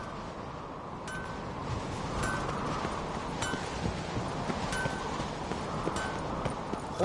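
Horse hooves clip-clopping in The Witcher 3, a steady trotting rhythm of hoof strikes over a broad wind-like rush, moderately close and continuous.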